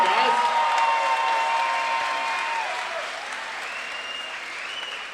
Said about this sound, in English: let's hear a big round of applause for both these fighters putting on a great show